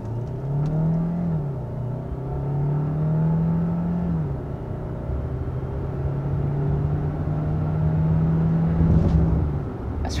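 A 2022 Kia Sorento plug-in hybrid pulls hard from a standstill, its steady drivetrain whir and rising hum continuous and close throughout, with a faint rumble of road noise underneath and no talking.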